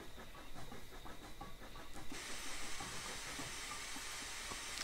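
A steam train in Train Simulator 2015 passes by with a steady hiss of steam and rolling rail noise, swelling into a broad loud rush as it draws level.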